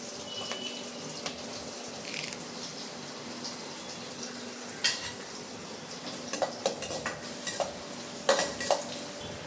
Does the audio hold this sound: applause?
no